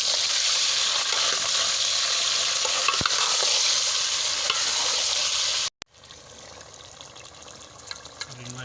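Potatoes fry in a pot of oil for chicken pulao, giving a loud, dense, continuous sizzle with stirring. It cuts off abruptly and gives way to quieter scraping and bubbling.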